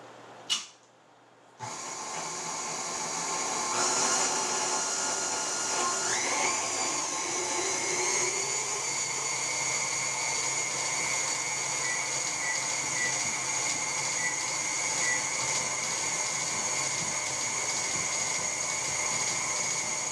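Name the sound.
electric mixer beating dough on high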